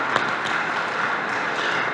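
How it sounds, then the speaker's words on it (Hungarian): A crowd at a sports ball claps in a brief, even burst of applause, moderately distant with no voices standing out. "nekik is szeretnék egy-egy tapsot kérni"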